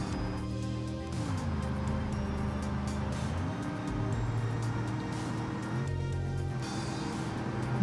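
A turbocharged 1975 car engine in the BeamNG driving game pulls hard under load uphill, a steady loud drone whose pitch climbs, dips and rises again across the run, with no talking.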